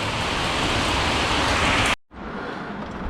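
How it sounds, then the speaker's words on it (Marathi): Heavy rain pours down as a dense, steady hiss, cutting out abruptly for a moment before the downpour resumes at a slightly lower level. "पाऊस बघा तर बघा पाऊस पण भरपूर आहे इकडे"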